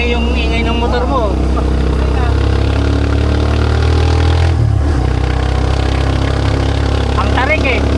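Motorcycle engine laboring up a steep dirt trail toward a waterfall, a continuous loud low drone with shifting pitch, heard beneath people chatting nearby.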